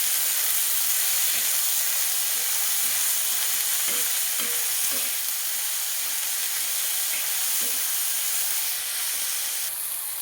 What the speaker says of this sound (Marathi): तर मग हे टोमॅटो आपण याच्यामध्ये ॲड करू. चांगलं परतून घ्यायचं आता.